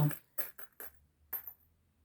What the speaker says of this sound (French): Donc je vais poser une petite breloque sur chaque pour terminer ce tirage.